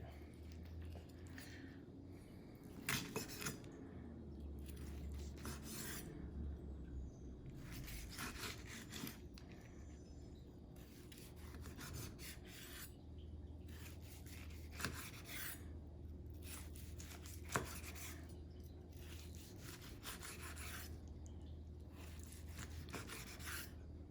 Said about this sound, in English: let's cut it off the bone